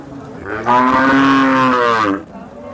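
An HF cow lets out one long, loud moo lasting over a second, close by at a cattle market in Sangola, with faint background noise before and after.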